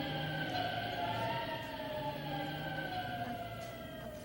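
Fire engine siren wailing at a moderate distance, its rising and falling tones sustained throughout with steady background hum and no talking.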